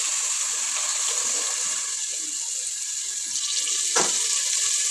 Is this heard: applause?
no